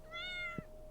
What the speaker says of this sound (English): Yes, meow to you too.